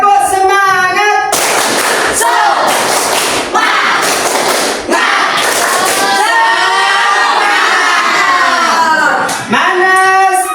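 A standing class performs a rhythmic clapping chant during an Islamic education teacher-training lesson, sharp clap bursts alternating with sung and shouted voices in a repeating pattern.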